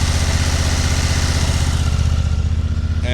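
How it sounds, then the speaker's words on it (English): A 2024 Honda XL750 Transalp with about 1,700 miles idles cold, a loud, close, steady low throbbing rumble that eases slightly near the end, with no talk. "Engine sounds very good."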